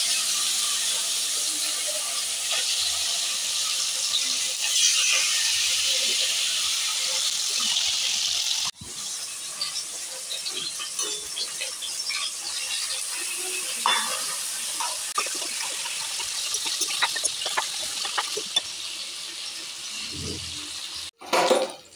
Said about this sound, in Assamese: এয়া গোটেই ভাজি ল'লোঁ মাছ এয়া এইখিনি মাছ ভাজি ল'লোঁ